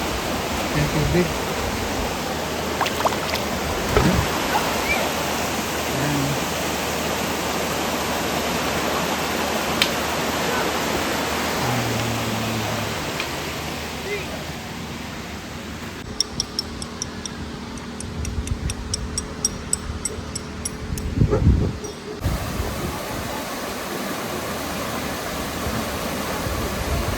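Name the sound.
flowing water on a mountain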